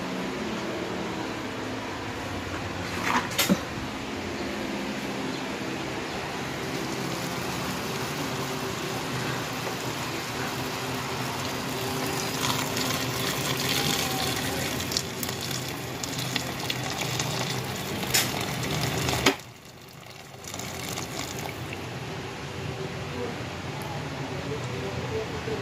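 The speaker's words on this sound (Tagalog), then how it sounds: "pwede na natin lagyan ng tubig" Pork leg braising in a home kitchen pot after water is poured in, a steady broadband sizzle and bubbling hiss running continuously, with a brief sharp splash-like burst near the end before settling quieter; talk is heard over it.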